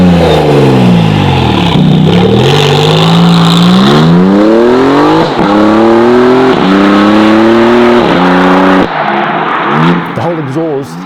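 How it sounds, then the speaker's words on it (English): Close, loud revving of a Maserati MC20 Cielo through a Novitec sports exhaust with sport cats and a Novitec rear muffler: repeated rising and falling sweeps, then a crackling drop-off, with someone talking over it. "predominantly it's the noise coming from this Novitec sports exhaust system with sport cats and a Novitec rear"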